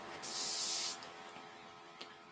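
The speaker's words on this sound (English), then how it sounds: "are we ready for setting spray everywhere?" Makeup setting spray released in one continuous spritz of about three-quarters of a second, a close, fairly soft airy hiss, followed by quiet room tone and a faint tap.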